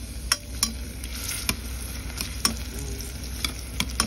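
Onions sizzle and crackle in hot cooking oil in a home kitchen, a steady close frying hiss broken by sharp stirring clicks every half second or so, with no voices.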